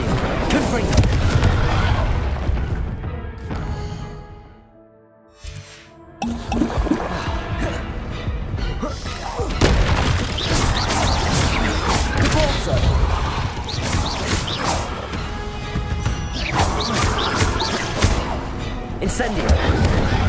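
Spell casting and explosions in the video game Hogwarts Legacy: booming blasts, crackling bursts and crashes fill the mix almost continuously, dropping out briefly once, while a voice calls out over the combat.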